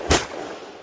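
A single shot from a custom Sig P320 pistol chambered in .357 SIG, one sharp loud crack with a short decaying ring after it, outdoors at a range.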